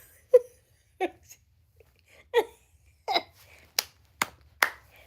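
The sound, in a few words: hand claps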